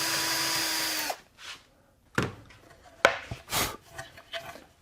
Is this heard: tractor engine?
no